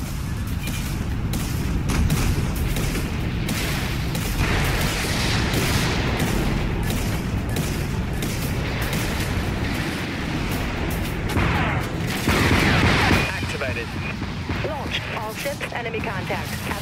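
A warship in the Dreadnought space combat game fires its broadside cannons in a sustained volley of booms and rapid gunfire, loud and rolling, with short lulls and some in-game voices mixed in.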